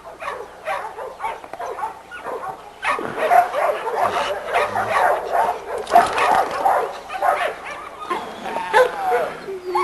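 Several dogs bark and yelp repeatedly in a busy, overlapping chorus, fairly close, with occasional whimpers and a voice faintly mixed in.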